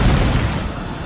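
A grenade blast in an animated military show bursts out as a loud, dense, rumbling explosion that fills the whole moment and fades only slightly over about a second.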